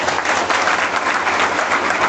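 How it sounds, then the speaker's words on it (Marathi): An audience at a religious children's training camp gives steady, dense applause, many hands clapping together at close range with no pause for the full stretch. "अशा बटूंसाठी एकदा आपण सर्वांनी जोरदार टाळ्या वाजूया"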